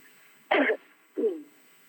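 Two short coughs close by, a sharp, forceful one followed by a softer, lower one after a brief pause, in an otherwise quiet setting.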